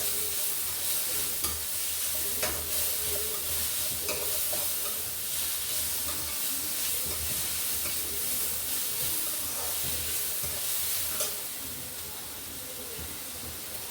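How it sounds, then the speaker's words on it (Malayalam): Tomato and spices sautéing in a pan for beef curry, a continuous close sizzle and hiss with occasional scraping stirs, easing slightly toward the end. "എല്ലാം കൂടി നന്നായിട്ടൊന്ന് വഴറ്റിയെടുക്കും."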